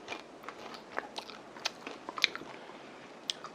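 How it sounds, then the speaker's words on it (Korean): Crisp bites into crunchy deep-fried kelp chips (dasima twigak) give a run of close, sharp crackling crunches with chewing, heard alone without talk. "자, 하나 먹어봐요. 어때요? 바삭바삭하죠?"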